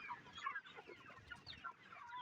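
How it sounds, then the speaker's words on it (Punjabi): Desi hens emerge from their coop into a free-range yard, clucking continuously in brief overlapping calls at a moderate, close level, with no voices. "ਦੇਖੋ ਮੁਰਗੀਆਂ ਕਿੱਦਾਂ ਅੰਦਰੋਂ ਬਾਹਰ ਨਿਕਲ ਰਹੀਆਂ ਹਨ"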